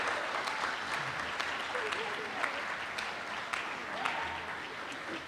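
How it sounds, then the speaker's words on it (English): An audience claps steadily and fairly loudly throughout for an honoree at an award ceremony during a summit, with dense applause filling the room and faint voices underneath. "Linda, she deserves a big applause"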